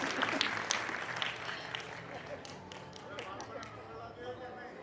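Applause from an audience at a Pushti Sanskar Pathshala gathering in Navsari, a burst of clapping that starts fairly loud and fades gradually into a thinner patter, with people talking underneath.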